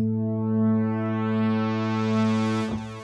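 A sustained synthesizer pad holds one warm chord, its tone gradually brightening as a filter sweeps open, then briefly wavers near the end.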